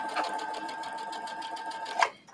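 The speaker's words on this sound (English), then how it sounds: "Oh, I backstitched again." A domestic sewing machine runs in a steady, even whirr of rapid stitching, the motor held at a constant pitch, then a brief louder clunk near the end as it backstitches and stops.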